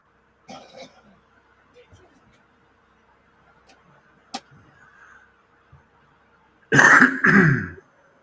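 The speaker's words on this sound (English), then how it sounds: "Definitely know you're there when I hear you cough." Mostly quiet room with a few faint scattered noises, then a loud pair of close coughs or throat-clearing bursts near the end.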